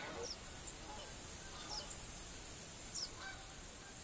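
Canada geese honking in the hunting video game theHunter, a few faint distant honks repeating at intervals over a low steady background hiss.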